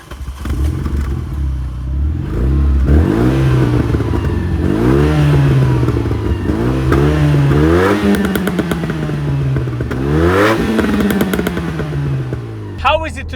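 A Renault Megane R26R engine revs hard while driving, loud and close, climbing through repeated rising sweeps between gear changes with crackles on the lift-off.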